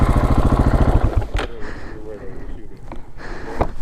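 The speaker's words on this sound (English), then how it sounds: "I'm gonna just turn this bike around." A motorcycle idles at a campground with a low, even rumbling pulse as the rider turns it around, the engine fading back while someone talks over it and a few knocks and clicks follow.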